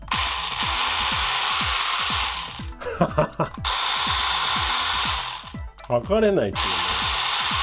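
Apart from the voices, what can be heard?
Mini 4WD motor spinning in a Marushin toy BB gun kit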